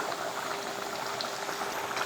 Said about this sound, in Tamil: நல்லா கொதிக்க ஆரம்பிச்சிருச்சு